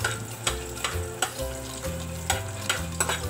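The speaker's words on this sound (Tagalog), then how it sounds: "So, igigisa ko ngayon ang bawang at sibuyas." Garlic and onion sauté in a frying pan, a steady close sizzle and crackle of oil with light stirring scrapes, no voices over it.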